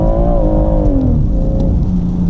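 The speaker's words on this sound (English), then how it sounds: "Launch control is active and then let go of the brake." A BMW M140 launches hard using launch control, its engine note sweeping downward as it accelerates away, loud and close with no voices over it.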